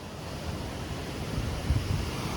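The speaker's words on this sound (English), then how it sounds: "Because we're right beside a waterfall." Waterfall roaring beside a river, a dense continuous rush of water heard up close with some wind buffeting on the microphone.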